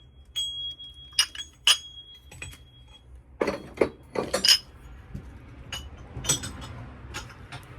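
Green glass votive holders shaped like flower pots clinking and chinking as they are picked up and set down, a series of sharp close knocks and rings in irregular bursts.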